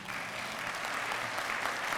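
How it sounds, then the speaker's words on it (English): An audience at a scholarship partners breakfast breaks into applause, a continuous, even patter of many hands clapping at moderate volume from across the room. "Give that man a round of applause."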